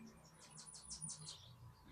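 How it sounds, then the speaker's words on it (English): A small bird chirps loudly in a quick run of about five bright, rising tweets close to the microphone, over a low background hum. "oh my god, that little tiny bird is so loud"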